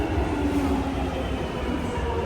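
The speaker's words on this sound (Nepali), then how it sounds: "र फाइनली हाम्रो पनि ट्रेन" A London train pulls into the station with a steady, dense rumble of wheels and carriages, continuous and fairly loud throughout with no voices.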